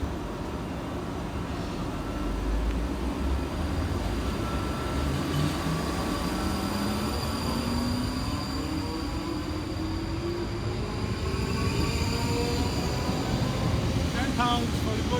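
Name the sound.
South Western Railway class 458 trains 458417 and 458409 departing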